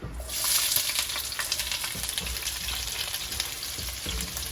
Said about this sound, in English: We're just going to start to fry off all these wonderful ingredients